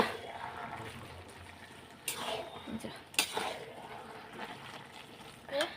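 Cabbage curry being stirred with a utensil in a cooking pan, with soft scraping and a few sharp clinks against the metal, moderately close, amid faint background noise.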